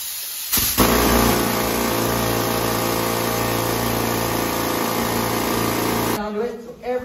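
Loud, steady mechanical roar of a compressed-air rock drill boring into rock in a mine, running continuously, starting abruptly and cutting off near the end.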